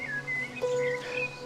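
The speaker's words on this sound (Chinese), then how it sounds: "走到这里，真的能听到很多的鸟叫声，" Several birds chirp and sing in the open air in a mountain valley in Guizhou, with high, thin calls overlapping one another steadily at a moderate distance.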